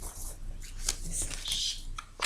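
Hands cut a deck of tarot cards, making soft, close, quiet rustles and light card slaps in short bursts.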